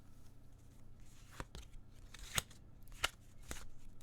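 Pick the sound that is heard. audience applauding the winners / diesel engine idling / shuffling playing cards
shuffling playing cards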